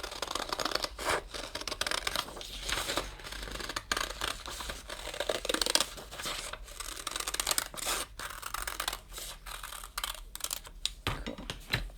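Scissors cutting around a paper circle give quiet, close snips and paper rustles in an uneven rhythm, with no talking.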